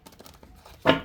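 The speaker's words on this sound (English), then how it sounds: "I'm trying to figure out the best way to shuffle this deck." Tarot card deck being shuffled by hand, faint soft rustles followed by one short, louder riffle of cards near the end, close up and without talk.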